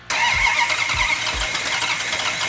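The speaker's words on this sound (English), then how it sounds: "it's time to crank it over and fire it up" A Hemi Cuda's V8 engine cranks with several rhythmic starter bumps, then fires and settles into a loud, steady idle close by, with no talking.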